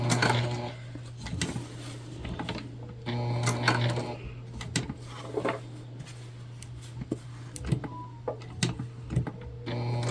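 A sewing machine back stitches fabric for a shoulder bag made from recycled material, with short bursts of stitching over a steady low motor hum and scattered clicks and handling sounds.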